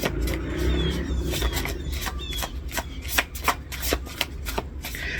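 Handmade tarot cards being shuffled close up: a steady, crisp riffling and flapping that breaks into rapid separate slaps and taps toward the end, with no voices.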